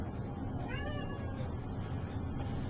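A cat meows once inside a room, a short rising and falling cry heard close against steady low background noise.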